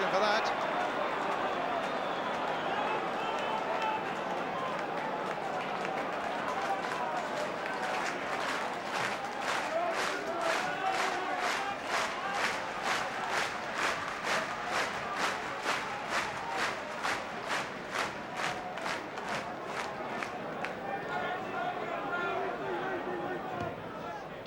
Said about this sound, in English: Crowd not happy with the linesman's decision for that.